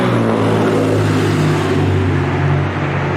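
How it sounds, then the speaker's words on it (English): A loud car engine revs and drones close by on a road in Missouri near the Arkansas line, a continuous heavy rumble holding steady throughout. "Loud car."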